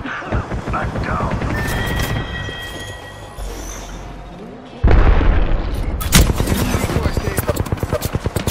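Gunfire in a video game, heavy bursts and booms over a dense noisy backdrop, then a loud, rapid stream of automatic shots that carries close and continuous to the end.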